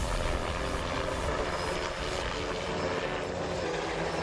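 A helicopter flies overhead, a loud, continuous rotor and engine roar that stays steady and close throughout with no voices.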